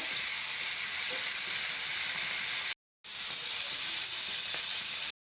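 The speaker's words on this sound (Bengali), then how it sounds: "চিংড়িগুলোকে ভালো করে ভেজে নিব, খুব ভালো করে ভেজে নিতে হবে" Shrimp fry in a hot pan with a loud, continuous sizzle up close, broken by two brief silent cuts.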